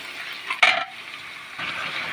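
Masala stir-fried in a pan for aloo dum with potatoes added: a steady close sizzle with a louder scraping stir burst near the start, then the frying hiss continues alone.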